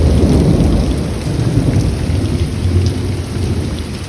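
Heavy rain pours steadily with rolling thunder rumbling low throughout, a dense, loud, continuous roar with no voices.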